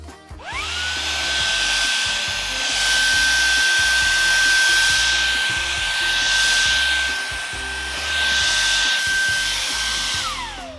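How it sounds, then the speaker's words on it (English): A small vacuum motor whines steadily at a high pitch for several seconds, rising and falling slightly in loudness before spinning down at the end. "so I'm gonna try to vacuum that up"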